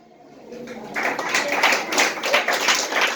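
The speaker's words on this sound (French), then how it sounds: "On applaudit tout le staff, plus fort, s'il vous plaît." Applause for school staff at a school event starts faint and swells after about a second into steady crowd clapping. A voice can be heard under the clapping.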